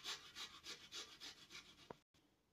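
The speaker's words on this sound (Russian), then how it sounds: "Трем сюда же чеснок на мелкой терке." Garlic rubbed back and forth on a fine grater, giving soft, rhythmic rasping strokes, close and fairly quiet, about eight passes before a brief knock and a short pause.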